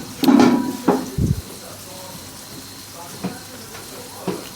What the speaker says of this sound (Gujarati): બાપુ હળદર નાખી રહ્યા છે અંદર.